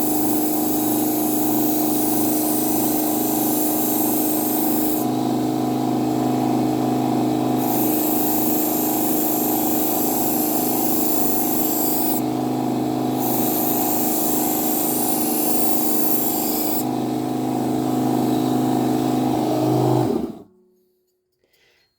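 Budget backstand belt grinder running steadily as a knife blade is sharpened, a continuous loud whine with the grinding pitch rising during three passes of the blade, then cutting off abruptly near the end.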